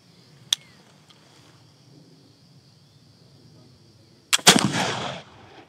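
Muzzle-loading pistol fire: a sharp distant crack early on, then a loud close gunshot with a rolling boom that fades over a second, amid quiet background.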